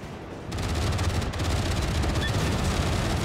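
Ship guns fire in World of Warships as a cruiser comes under attack, a dense, continuous rumbling barrage of overlapping shots that swells after a brief quieter start and stays loud throughout.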